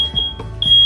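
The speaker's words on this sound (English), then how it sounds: "That's my fire alarm going off." A home smoke alarm sounds while dinner cooks, giving a sharp, loud, high-pitched beep, a short pause, then another beep, close by and indoors.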